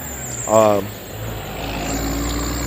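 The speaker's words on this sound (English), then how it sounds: "Got a truck coming by." A truck engine rumbles steadily as the truck rolls past at a truck-driving training yard, with a brief higher whine early on and a low roar swelling toward the end.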